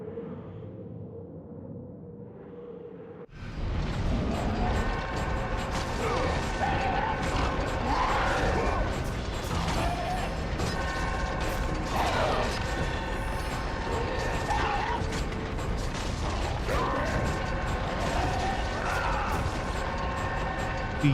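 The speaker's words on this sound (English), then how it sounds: "Feed them to the grinder." Heavy grinder machinery in God of War II starts with a sudden crash, then churns continuously with clanking, rattling metal mechanisms and crushing impacts over a loud, sustained mechanical roar.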